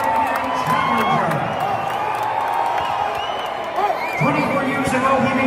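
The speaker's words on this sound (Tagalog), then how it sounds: "maririnig ang sigawan ng mga manonood na Manny" A boxing crowd at the MGM Grand Garden Arena cheers and chants Manny's name, a dense roar of shouting voices with rising whoops and chant-like swells, continuous and reverberant.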